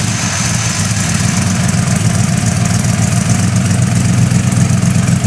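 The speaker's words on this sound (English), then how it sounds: "All right, Rob, why don't you fire it up and let's hear this pussycat." A 1965 Cobra Daytona with twin four-barrel carburetors and side exhaust idles loudly and close by. The low, rumbling engine throbs steadily and evenly throughout, with no voices.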